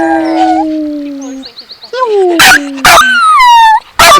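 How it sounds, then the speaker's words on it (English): Theo, a Shih Tzu dog, howling in long wavering tones with yips and sharp bursts mixed in, loud and close, while a person talks over parts of it. "That's a good howl. There's that little wolf."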